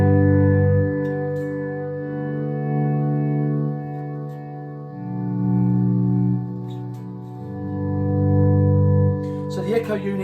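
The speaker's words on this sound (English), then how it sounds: "so the echo unit and the reverb" An electric guitar plays sustained chords through an echo unit and reverb, with shimmering repeats and long tails swelling and shifting between chord changes, followed by a brief burst of string noise at the end.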